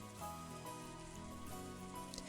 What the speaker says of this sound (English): The wind and rain were strong